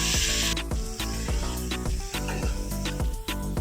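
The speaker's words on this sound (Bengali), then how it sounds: "এবার আমি নারকেলের যে দুধটা দিয়ে দিচ্ছি।" Coconut milk hits hot frying masala for a prawn malai curry with a loud sizzling hiss, a burst of spray at the start, then steady bubbling and frying with scattered clicks and pops.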